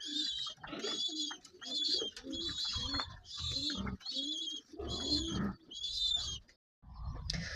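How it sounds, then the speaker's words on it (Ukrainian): Pigeons coo close by in a loft, a pair of birds repeating low throaty calls in regular bursts with brief gaps between them, and no talk over them. "Дивіться, бідну голубку, голуб ось, а голубку бідну зараз замучать обоє."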